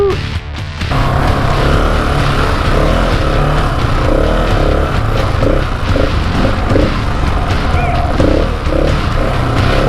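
A Husqvarna 701 Enduro motorcycle rides ATV trails, its single-cylinder engine loud and close throughout, with revving surges and bumps and knocks from the rough terrain.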